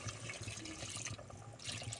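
Water pours into a curry pan of goat head curry with raw mango cooking over a wood fire, a soft continuous liquid rush with light trickling, faint and brief.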